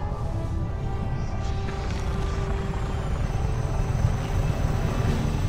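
A helicopter in the video game Just Cause 3 gives off a continuous whirring rotor and engine drone, steady and fairly loud throughout, with a faint high whine above it and no talking.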